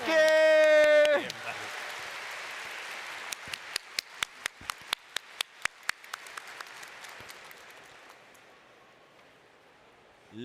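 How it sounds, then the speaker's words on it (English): An audience at the FFXIV Fanfest keynote in North America claps after a loud sung or musical ending, the applause thinning into scattered individual claps before fading out. "One more big round of applause, please."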